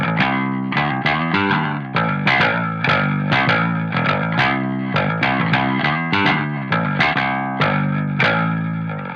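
Bass run through the high distortion band of the Parallax X plugin, playing a rhythmic line of repeated plucked notes with gritty, bright distorted overtones, steady and loud with no talking.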